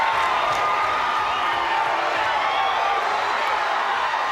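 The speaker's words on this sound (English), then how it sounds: "the crowd here is almost deafening" Dense, roaring wrestling arena crowd cheering loudly and steadily throughout a tag-team match, a constant wash of shouts and whoops with no letup.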